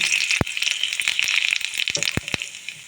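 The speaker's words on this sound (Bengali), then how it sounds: "কড়াতে আমি অল্প তেল দিয়ে দিয়েছি দিয়ে দেব তেজপাতাও শুকনো লঙ্কা দিয়ে দেব গোটা জিরে" Bay leaf, dried red chilli and whole cumin fry in a little oil in a kadai, with close, lively sizzling and several sharp crackling pops.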